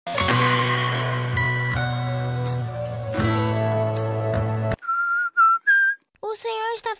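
A person whistles a steady, sustained tune up close, then breaks into several short separate whistled notes, and a voice briefly joins at the end.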